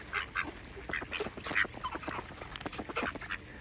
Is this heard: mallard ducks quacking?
yes